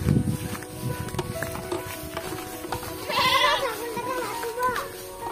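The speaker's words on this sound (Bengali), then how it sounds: "চারিদিকে সব খামারে যে ছাগলগুলো থাকে তারা সবাই রয়েছে" Goats bleat in a village farm setting, a couple of wavering cries rising over a background of people talking and children's voices nearby.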